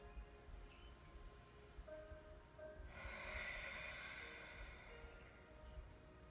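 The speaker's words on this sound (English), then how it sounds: "3 big breaths" During a yoga hip stretch, a slow, deep breath swells into a long, airy exhale through the nose and mouth, then fades away. It is quiet and close over faint room noise, with no talking.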